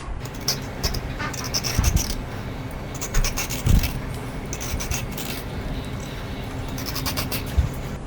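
A ridge gourd is peeled in quick, light strokes, giving repeated short scraping and rasping sounds close by, in uneven bursts with brief pauses between them.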